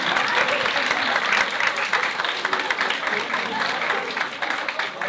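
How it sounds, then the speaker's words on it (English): Students at a debate cross-examination session clap steadily, a sustained, moderately loud patter of many hands, with talking running underneath. "because you keep clapping when it's not debate related"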